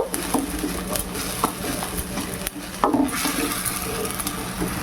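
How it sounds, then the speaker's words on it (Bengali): Onions fry with a little salt in a pan, giving a continuous close sizzle broken by a few sharp scrapes and taps of a spoon or spatula against the metal. "একটু পেঁয়াজটা ভেজে নেব, তারপরে এর মধ্যে আদা রসুন দেব।"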